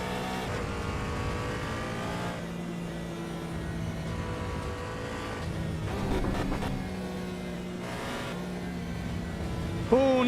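A race car engine in Assetto Corsa Evo revving and shifting through gears, rising and falling tones continuous and close, with tire noise and a sharp spike at the end.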